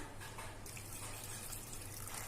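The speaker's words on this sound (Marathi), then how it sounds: "आता या ताटातलं जे गरम पाणी आहे ते आपण त्याच्यात ओतून घेऊ" Hot water pours steadily from a plate into a pot with a soft, continuous splashing, quiet and close, with no talking.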